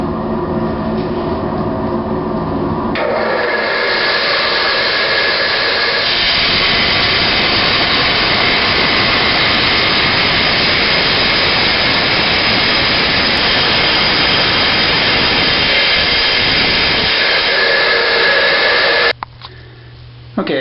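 Tile saw dry-cutting floor tile for a basement bathroom, a loud steady high-pitched grinding roar that runs almost unbroken for about sixteen seconds before stopping abruptly, no talking.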